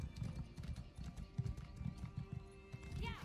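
Hooves clop in a quick, steady gait at close range, with a brief horse whinny near the end, from the video game Elder Scrolls Online.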